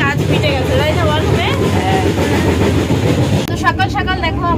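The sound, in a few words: Tirupati Humsafar Express train running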